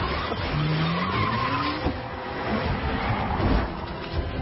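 A car drives fast and skids with squealing tires in an action movie chase, tire screeches sliding over a rough engine and road roar, with thuds near the end.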